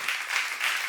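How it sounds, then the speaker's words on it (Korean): A church seminar congregation applauds, a dense, even patter of many hands clapping at moderate volume, swelling in a few soft waves throughout. "박수 하나 더 해주세요."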